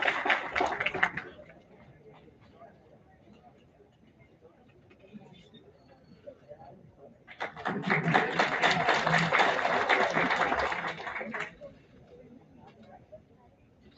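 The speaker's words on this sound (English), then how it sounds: "Let's have a huge round of applause for Mr. Vipul." Conference audience applause, a brief burst at the start followed by a sustained round of clapping lasting several seconds, fairly loud, with a voice speaking in between.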